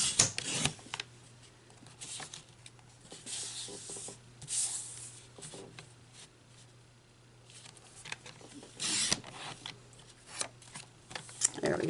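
Paper trimmer or scissors slicing through six stacked sheets of 6 by 6 inch designer series paper into 2.5 inch squares, with several short crisp cutting swishes and scrapes separated by quieter handling noises, fairly close.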